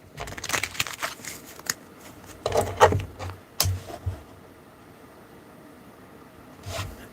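Tarot cards shuffle in quick papery riffles and flicks, bunched into several bursts with quieter pauses between them.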